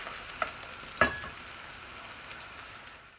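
Chapli kebabs made with raw potato fry in a pan over low to medium flame, a soft, even sizzle close by with a couple of brief louder spits and pops near the start, and no voices.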